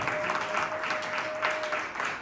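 Church congregation clapping together during a French-language worship service, a dense, steady wash of applause filling the room with a few louder swells.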